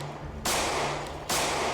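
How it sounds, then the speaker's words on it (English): Two loud hunting rifle shots in the video game Project Zomboid, a sharp broadband blast about a second apart, each followed by a brief decaying tail over a steady low hum. "I do want to try out our hunting rifle"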